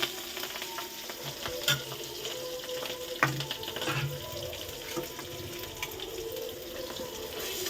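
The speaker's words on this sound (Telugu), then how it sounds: "ఇందులో కొంచెం అల్లం వెల్లుల్లిపాయ పేస్ట్ అయితే వేసుకుందాం" Ginger garlic paste frying in hot oil with curry leaves, a steady sizzle with occasional spoon stirs and scrapes close by, no talking.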